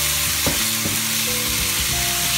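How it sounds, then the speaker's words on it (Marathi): Red chili powder, turmeric and garam masala frying on a tawa for Maharashtrian-style spicy prawn masala, an even bright sizzle with a few clicks of a spatula, close up and continuous with no voices. "गरम मसाला घालावा आणि छान फ्राय करून घ्या"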